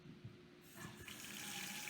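Tap water starts gushing from the spout of an Enagic LeveLuk K8 water ionizer after a quiet moment, then runs in a steady, close stream, alone.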